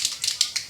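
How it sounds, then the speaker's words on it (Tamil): Mustard seeds dropped into hot oil for a drumstick stir-fry, crackling in quick, bright bursts of popping, close and fairly soft, about five clusters in under a second. "இப்போ எண்ணெயை ஊற்றிட்டோம். பார்த்திங்கன்னா கடுகு போட்டுக்கலாம்"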